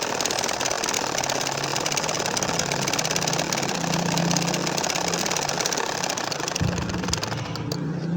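A sewing machine stitches straight lines across a baby nakshi kantha quilt, giving a close, steady motor whir with a brief change near the end and no talking.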